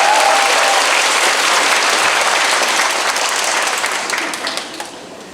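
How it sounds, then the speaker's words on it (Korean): Audience at a 2024 KISH elementary school parents' general meeting gives sustained, dense applause that holds loud and steady, then gradually thins and fades near the end. "이렇게 뜨겁게 박수 쳐주시고 환호해주셔서"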